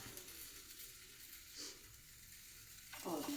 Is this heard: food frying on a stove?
yes